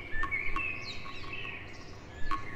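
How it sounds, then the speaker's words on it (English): Birds chirp in the horror video game Cry of Fear, with thin, high calls scattered over a steady rumbling ambient background, fairly faint and somewhat distant. "Are those birds?"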